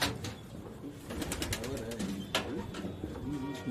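Pigeons on a rooftop terrace coo softly in low, repeated calls, with occasional faint flutters and clicks, while people talk nearby.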